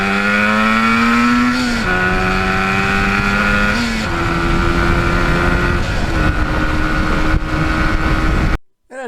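A 1977 Yamaha RD400 two-stroke motorcycle engine revs loudly and up close, climbing in pitch and then dropping at each gear change as it works through the gears, before cutting off abruptly at the end.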